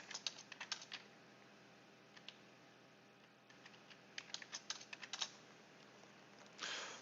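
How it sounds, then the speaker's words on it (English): Rapid bursts of typing on a computer keyboard while coding a C++ solution, clustered clicks starting and stopping in quick runs with quiet gaps between, close and moderately soft, no talking. "Don't mind me, just lots of typing."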